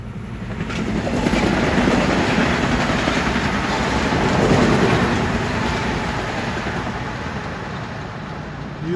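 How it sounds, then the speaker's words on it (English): Metro-North Poughkeepsie Super Express train 863 passing at Ardsley-on-Hudson in the evening, a loud, sustained rumble with clattering wheels that builds, peaks midway, then slowly fades as it goes by. "Approaching at 6:46 is the last of the Poughkeepsie Super Expresses, 863."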